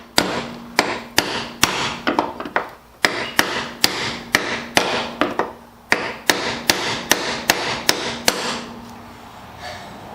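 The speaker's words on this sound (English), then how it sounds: "So I had to take a 1-pound hammer and a brass punch." A one-pound hammer drives a brass punch against the rusted iron fuel pump locking ring of a 2012 Colorado, giving around twenty sharp, close metallic strikes in uneven bursts with short pauses.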